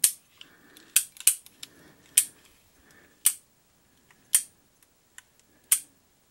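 A Crosman air gun fires pellets, giving sharp, close snaps and clicks at irregular intervals with quiet pauses between them. No one speaks.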